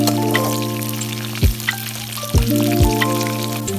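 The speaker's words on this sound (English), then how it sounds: "Add gobi when oil is heated. Fry until turns into golden brown." Cauliflower florets frying in hot cooking oil for a gobi aloo dish, a steady close sizzle with a few louder bursts and pops as pieces shift in the pan.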